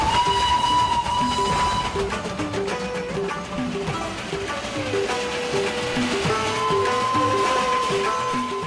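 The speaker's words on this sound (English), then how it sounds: "everybody's come here to enjoy the romance and the excitement of a real steam train" Steam train on the Darjeeling Himalayan Railway, a narrow gauge hill line in India, with sustained whistle tones over a busy, continuous mix of music-like tones and rail noise.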